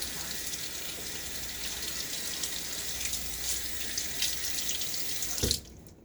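A faucet runs steadily to rinse overflowing shaving lather from an Omega shaving brush at a sink, a continuous close, even gush that cuts off sharply near the end.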